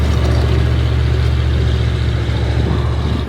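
A Ford FW-30 tractor engine drones loudly and steadily at close range while pulling a mole plow through soil, with a deep, unchanging rumble.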